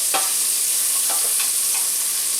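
A spoon scrapes thick sausage roux off the bottom of a hot pot while stirring a Cajun-style sausage chilli, a few soft scraping strokes rising over a steady, close sizzle of frying.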